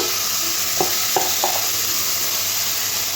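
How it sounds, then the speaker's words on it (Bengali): Prawns coated in salt and turmeric fry in hot oil with a steady, close sizzle, broken by a few short scraping stirs. "নুন আর হলুদ মাখানো চিংড়ি মাছগুলো তেলের মধ্যে দিয়ে একটু হালকা হালকা করে ভেজে নেব"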